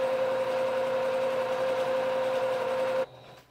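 A sewing machine stitches steadily down a cloth pad, running as one loud, even mechanical whir for about three seconds, then stopping abruptly and leaving a faint quiet tail.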